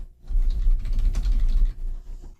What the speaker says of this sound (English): I can press Ctrl and F at the same time on my keyboard to make this search box appear